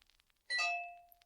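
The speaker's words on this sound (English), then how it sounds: "That's my phone now." A phone notification tone rings out once, a bright chime that rises sharply and fades over about a second in an otherwise quiet room.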